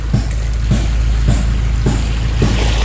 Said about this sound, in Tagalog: So maganda na yung tunog ng makina.